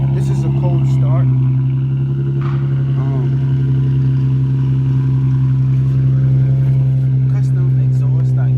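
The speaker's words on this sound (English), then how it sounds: "This is a cold start." Idling VQ engine of an Infiniti G35 coupe on a cold start, running through a custom single exhaust, gives a steady, loud low drone that holds evenly throughout, with someone talking over it.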